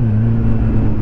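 Steady, close idle of a Kawasaki Z 750 R motorcycle running a Leo Vince SBK exhaust, a loud, deep and even rumble with no other sounds.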